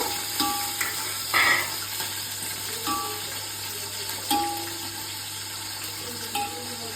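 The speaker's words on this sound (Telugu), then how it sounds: "ఆనియన్స్ ఇంకా మిర్చీలు అయితే ఇలా కట్ చేసుకొని వేసుకోవాలి. చూడండి వేగిపోయి." Onions and green chillies fry in a pan for a village-style biryani, giving a steady sizzle with a few scattered clinks and stirring scrapes, close and alone with no talk.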